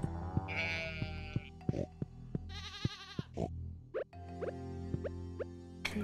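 A goat in a farming video game bleats several times in quick succession, clear and close, mixed with soft game plops and chimes against a quiet musical backdrop.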